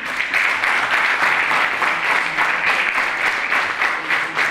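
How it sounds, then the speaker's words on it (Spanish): A crowd applauds the candidates at a university debate in Puerto Montt, a dense, steady wash of clapping that stays loud and even throughout without any voices on top. "a quienes les pedimos un gran aplauso"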